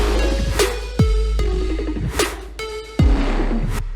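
A festival trap drop made in Ableton Live 12 plays loud with deep sub bass, punchy kicks and sharp percussive hits over synth layers. It is dense and continuous, with no voices.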